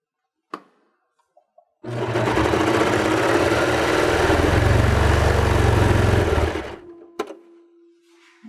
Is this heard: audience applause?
no